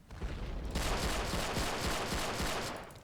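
Rapid gunfire aimed at a tank in the Roblox game War Simulator, a dense continuous rattle of shots that swells after a moment and holds steady for about three seconds, moderately loud with no voice.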